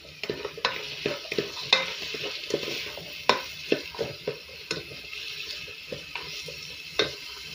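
Onions fry in a pan under a steady sizzle, with repeated sharp scrapes and clinks of a utensil stirring against the pan at an irregular pace, close up and with no talk.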